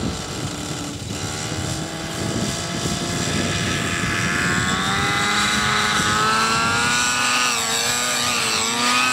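An RJX Xtreme 50 model helicopter engine runs steadily and loudly close by at Nördlingen 2010, its whine rising in pitch as the rotor speeds up.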